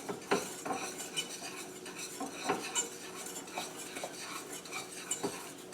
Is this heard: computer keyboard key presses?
no